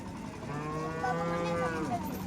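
A cow at a cattle market gives one long, loud, close moo that swells and holds steadily, with faint crowd noise behind.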